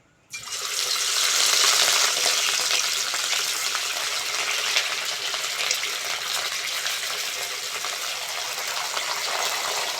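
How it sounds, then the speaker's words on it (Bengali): Rohu fish pieces rubbed with salt and turmeric fry in hot oil in a wok, giving a loud, steady broadband hiss that bursts up sharply as the fish goes in and holds alone throughout. "এইবার তেল দিয়ে মাছগুলো ভেজে নেব। এবার দিয়ে দেবো লবণ হলুদ মাখানো মাছ।"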